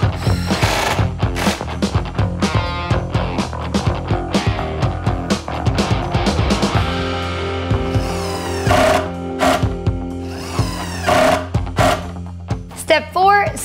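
A power drill drives 2-inch pocket hole screws into wooden boards of an entryway bench, giving repeated short, loud whirring bursts with brief pauses between screws.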